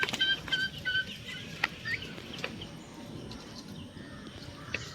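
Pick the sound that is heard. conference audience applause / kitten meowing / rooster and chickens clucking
rooster and chickens clucking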